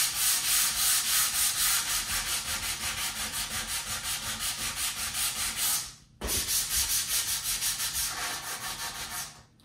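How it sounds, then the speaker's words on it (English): Rhythmic back-and-forth sanding of drywall compound on wooden three-panel staircase trim in an 1884 house renovation, steady close strokes that stop briefly near the end and then resume. "This will be a lot easier to sand it out now than while it's installed."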